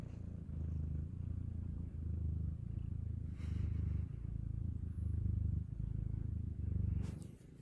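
A cat purrs up close in a steady, rhythmic low rumble, each breath cycle rising and falling for several seconds, with a faint rustle.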